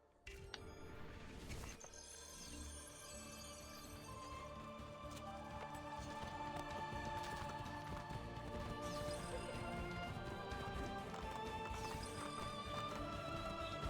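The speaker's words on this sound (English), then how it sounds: "Race your horse through checkpoints around Romana." Horse hooves gallop in a steady clip-clop during a checkpoint horse race around Romana in Assassin's Creed II, with occasional whinnies, all set under continuous loud game music and effects.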